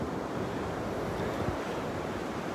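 Ocean surf washes steadily onto the beach at Delnor-Wiggins, a continuous, close, full roar of breaking waves with some wind noise and no talking.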